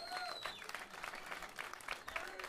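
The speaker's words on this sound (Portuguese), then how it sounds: "Salve de palmas para eles." Applause from a concert audience, dense steady clapping at moderate distance with crowd noise and a faint tonal whistle or feedback early on, no clear speech.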